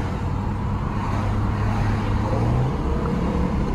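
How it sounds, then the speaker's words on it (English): A Chevy car with an automatic transmission drives along, its engine drone rising and then dropping as the gearbox shifts up, heard from inside over steady road noise. "Got a nice 1-2 shift there."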